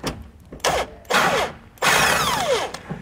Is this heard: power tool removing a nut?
yes